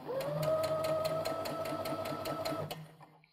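A sewing machine runs in a quick, even burst of stitches along a V-neckline on a garment, its regular mechanical clatter and hum close by, then stops abruptly near the end.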